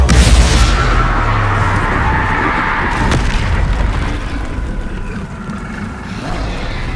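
Spell blasts in Hogwarts Legacy: a loud low boom opens, followed by a continuous rumbling din of magical impacts and crackle, with a sharp crack midway and the roar slowly easing.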